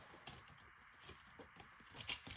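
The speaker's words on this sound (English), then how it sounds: "Small scissors." A few faint, crisp snips of small scissors trimming washi tape ends, spaced irregularly, with light rustling in between.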